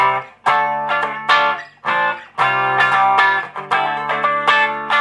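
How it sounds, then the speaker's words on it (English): An electric guitar through a Rullywow Cockit pedal set to a stuck-wah sound plays distorted chords and short phrases with a fixed, nasal filtered tone, loud and close, notes cutting off between strums. "It's a pretty convincing stuck wah sound for how simple it is."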